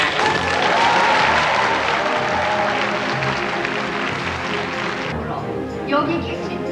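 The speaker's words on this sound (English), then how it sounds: "The ladies of North Korea applauded the court for finding Emperor Hirohito guilty of the charges on comfort women." Applause from North Korean women after a court finds Emperor Hirohito guilty of crimes against comfort women, dense and sustained clapping at a steady level that thins slightly toward the end, with voices mixed in.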